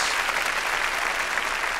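A church congregation claps loudly together in a dense, steady burst of applause, filling the room without any voices.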